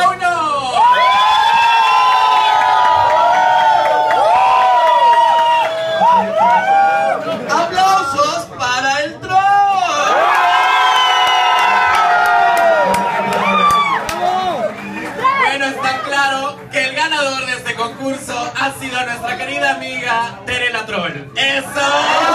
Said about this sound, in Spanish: Preparen sus gritos, sus tarajos, todo para gritar.